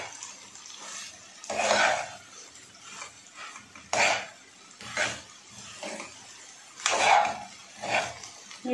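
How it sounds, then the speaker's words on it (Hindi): Pasta being stirred with masala in a pan, with intermittent scraping and clinking strokes of a utensil against metal in irregular bursts over quiet kitchen background. "अच्छे से इसको चलाऊंगी जिससे कि मसाला हर जाए, हर एक कोने में पहुंच जाए पास्ता के"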